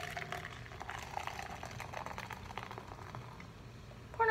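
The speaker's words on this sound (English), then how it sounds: "Pour in a reasonable amount." Ginger ale is poured into a glass, a faint fizzing, bubbling trickle of carbonated liquid that runs steadily before a brief louder clink at the end.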